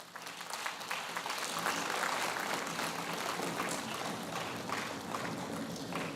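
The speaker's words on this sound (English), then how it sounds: "I think she deserves a round of applause." An audience at a university inaugural convocation gives a round of sustained, even applause lasting several seconds, a dense wash of clapping with no pauses.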